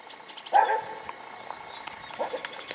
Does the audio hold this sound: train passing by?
no